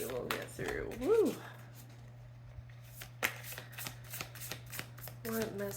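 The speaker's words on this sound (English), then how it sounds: "These are some newer cards, so a little bit more difficult to shuffle." New Moonology oracle cards being shuffled by hand in repeated crisp riffling bursts, close and clear, with a voice heard briefly near the start.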